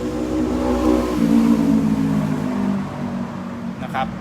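A car engine revs steadily and loudly close by, its pitch rising and falling, then easing off toward the end as a voice speaks briefly.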